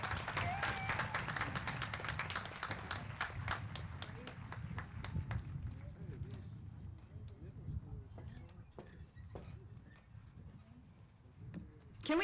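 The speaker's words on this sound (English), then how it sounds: "Can we give another round of applause to Anna and Yesenia?" Applause from a crowd at a middle school promotion ceremony, dense clapping in the first half that thins into scattered claps and crowd murmur, with talking underneath.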